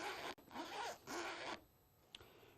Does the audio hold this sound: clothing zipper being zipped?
yes